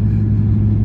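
Low, steady rumble of a truck engine pulling a telehandler on the road, continuous and close, with no talk over it.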